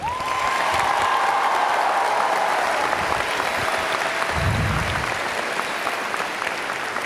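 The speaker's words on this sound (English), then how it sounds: "Give them a round of applause." A graduation crowd applauds the teachers with loud, continuous clapping that fills the hall, and a brief tone is heard at the start.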